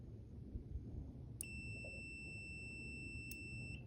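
A high electronic beep from an RV furnace sail switch on a test bench sounds twice with a pause between, a faulty double pulse, each tone ringing steadily over a low background hum.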